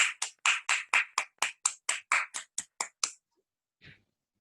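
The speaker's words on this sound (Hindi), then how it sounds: "मैं तालियों के अभिनंदन के साथ तरुण जी का स्वागत करने चाहूंगी" A quick run of roughly a dozen sharp, close hand claps rings out over about three seconds, welcoming a guest at a spiritual awakening celebration. A single faint clap follows after a short pause.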